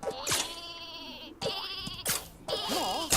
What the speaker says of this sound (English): I thought it was like some kind of trick with sheep on a rope